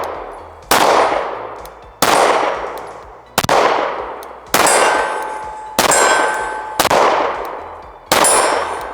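Stoeger STR-9MC pistol fired with Monarch 115 grain bullets, seven loud sharp reports at roughly one-second intervals, each ringing out with a metallic clang as the shots strike a steel target, no talking.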